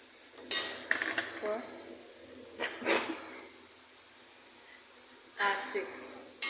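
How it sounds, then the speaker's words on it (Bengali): A spatula stirs a fried vegetable mixture in hot oil in a pan, giving soft sizzling and a few scraping clinks at scattered moments, fairly quiet. "আমরা এখন ভাজিটা দিয়ে দিচ্ছি তেলের ভিতরে। আর এখন এটাকে ভালোভাবে নেড়ে চেড়ে আমরা মিলিয়ে দিচ্ছি।"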